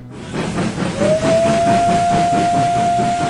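An old coal-fired steam train pulls into a station at night with heavy rhythmic chuffing, then a long, loud steam whistle that starts partway through and holds steady to the end.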